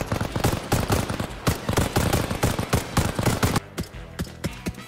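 Dense automatic gunfire in Arma Reforger, a PvE zombie fight, with loud sharp shots fired in quick rhythmic bursts close by, thinning to spaced single shots toward the end.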